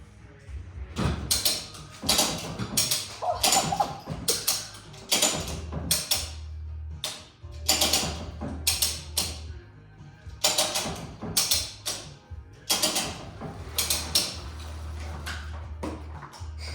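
A ratchet strap hooked to the front of a car cab is ratcheted to lift it during a cab-off Bel Air swap, giving repeated bursts of loud clicking mechanical ratchet strokes with short pauses between them in a garage.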